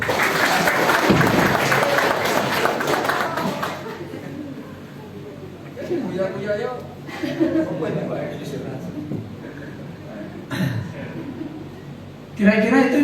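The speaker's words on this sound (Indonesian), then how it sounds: "tepuk tangan." An audience at a capacity-building session bursts into loud, dense applause lasting about four seconds, then the clapping fades and people begin talking.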